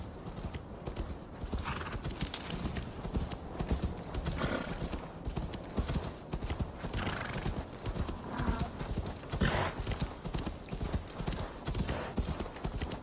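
A horse's hooves clip-clop steadily at a walk in Assassin's Creed Valhalla, loud and close in a continuous rhythm, with a whinny and brief talk mixed in.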